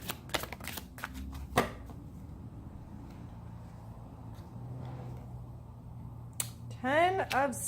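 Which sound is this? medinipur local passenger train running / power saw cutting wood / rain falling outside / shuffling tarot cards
shuffling tarot cards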